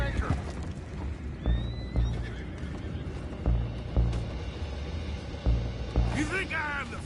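Horses whinny and neigh in a busy Red Dead Redemption 2 scene on PS4, with hoof clip-clops and voices talking over a steady background rumble.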